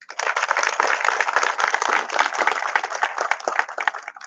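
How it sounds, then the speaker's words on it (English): Sustained applause from a conference audience at a valedictory ceremony, many hands clapping together at a steady, dense level throughout. "Give them a big round of applause."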